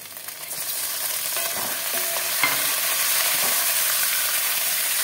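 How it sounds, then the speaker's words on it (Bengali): Mutton pieces go into a pan of fried onions for a South Indian curry, a loud sizzle that swells as the meat hits the oil, with spatula scrapes and stirring over a continuous hiss. "এবার দিয়ে দেবো মাটন।"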